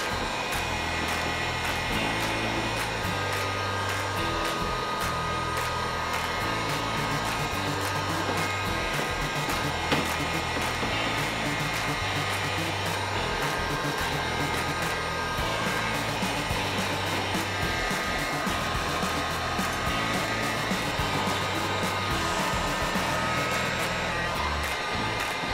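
A hair dryer runs without a break at a constant, loud, whooshing drone while it heats a decal sticker to soften it for peeling. The blowing holds steady from start to finish.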